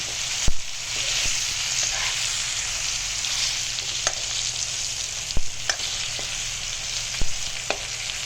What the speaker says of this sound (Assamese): এতিয়া এইখিনি ভাজা হৈছে।